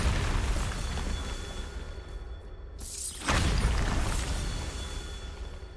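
A Bombarda spell explosion in Hogwarts Legacy on PS5, a deep blasting boom with a shattering burst and whooshing debris after a brief lull, loud and close with a rumbling tail.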